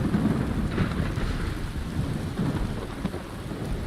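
Video game thunderstorm ambience: steady rain hiss with rumbling thunder, continuous and fairly loud throughout, no talking.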